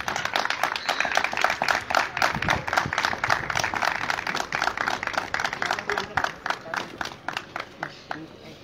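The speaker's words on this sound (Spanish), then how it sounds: "nuestro aplauso de pie para cada uno de ustedes y las felicitaciones" An audience applauds graduates at a special education school's graduation ceremony, with dense, steady clapping that continues throughout and fades slightly toward the end.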